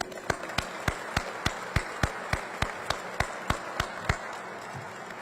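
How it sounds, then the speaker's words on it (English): Applause at a Test Pilot School graduation ceremony for a distinguished alumnus, heard as a steady wash of crowd clapping with sharp, evenly spaced louder claps cutting through about every third of a second. "Please join me in a round of applause for our distinguished alumnus."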